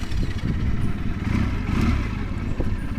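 A Junak M11 125 two-cylinder chopper motorcycle engine idles close by with a loud, steady low rumble and slight uneven pulsing, running alone without talk.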